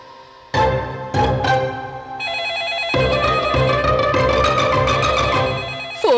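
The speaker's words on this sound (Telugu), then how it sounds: "ఫోన్ రింగ్ అవుతుంది." A telephone ringtone plays a bright electronic melody, starting with a few separate tones and then continuing as a loud, steady, repeating tune.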